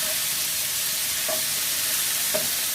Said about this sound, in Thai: ผัดให้หมูสุกก่อนนะคะ